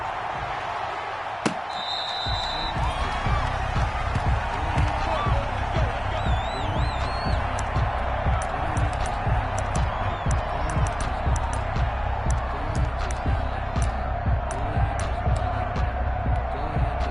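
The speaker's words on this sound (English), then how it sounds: "This crowd is ready as their guys get set to match up between the Minnesota Vikings and the Indianapolis Colts." A stadium crowd in a Minnesota Vikings vs Indianapolis Colts American football video game on PS4 roars steadily throughout, with a broadcast commentator talking over it.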